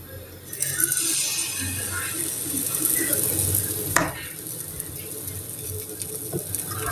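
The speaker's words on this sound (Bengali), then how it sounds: "এখন আমি গোলাটি ভালো করে একটু নেড়ে চেড়ে অল্প অল্প করে" Batter for oil-free pitha being stirred by hand in a bowl: continuous close scraping and swishing strokes, with a single sharp clink of utensil against the vessel midway.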